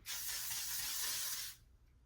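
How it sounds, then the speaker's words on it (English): A makeup setting spray bottle sputters, hissing steadily and fairly loudly nonstop for about a second and a half, then cuts off abruptly into near silence. "It's spraying like I dropped it on the floor."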